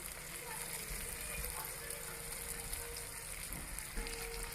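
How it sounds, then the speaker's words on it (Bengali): A spice paste of chopped tomato, split green chilies, turmeric, salt and sugar sautés in a pan with a soft, steady sizzle, quiet and continuous, as a person talks. "এবার আমি মশলাটা ভালো করে কষিয়ে নেবো"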